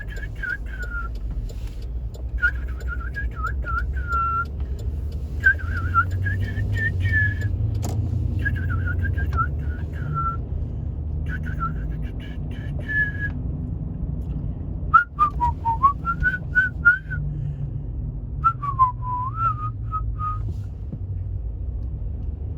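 A person whistles a wandering tune in short phrases, with a steady low rumble of a car engine or road noise underneath, in Ladonia, Alabama.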